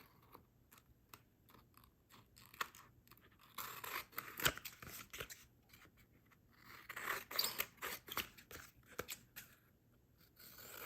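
Scissors cut around card for a handmade Christmas card, with quiet close snips and paper rustles coming in irregular bursts, soft overall and without speech.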